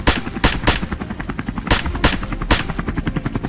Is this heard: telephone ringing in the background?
no